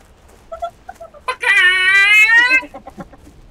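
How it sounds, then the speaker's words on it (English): Plainstrider creature from World of Warcraft Classic dying with a loud, harmonic, strained squawk lasting about a second, bracketed by short clucking chicken-like chirps before and after. "Sometimes that last part of its noise when it dies, it reminds me of a chicken."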